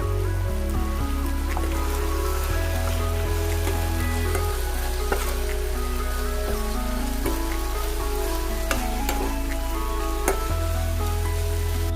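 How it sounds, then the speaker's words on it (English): Gobi manchurian is stirred into sauce in a hot pan, a steady sizzle with faint scraping running throughout beneath background music, with no talk. "Now we need to give it a good stir."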